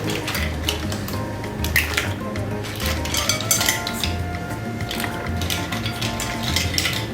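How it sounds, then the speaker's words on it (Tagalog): Mussels tipped into a pot of tom yum seafood soup, their shells clattering and rattling against the pot and each other in a dense, continuous jumble, close up with a steady background hiss. "Ayan na po, yung mga tahong nilalagay natin."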